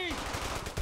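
An MG42 machine gun fires in Brothers in Arms: Hell's Highway, a rapid, close, dense burst of shots lasting under a second.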